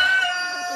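Chicken sounds at a lively birthday gathering, a steady harmonic tone held close and fairly loud through the short moment with no talk over it.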